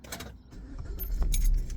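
Keys jangling close by as someone handles a key ring before a food delivery run, with a low vehicle rumble rising underneath and no talking.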